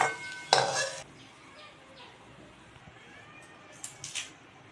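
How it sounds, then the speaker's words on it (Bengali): Fried elephant foot yam being lifted from a pan into a bowl, with a loud clattering scrape at the start, then a quiet stretch and a few light metal clinks near the end. "এবার আমি এটা এগুলো একটা বাটির মধ্যে তুলে নেব"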